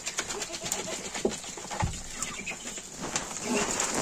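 Domestic ducks in a winter farmyard give short, close calls and harsh hissing sounds in irregular bursts. Light rustling and background noise run underneath.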